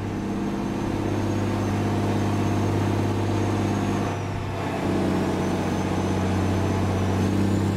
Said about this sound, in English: Such a sweet sounding truck, but the wind is down.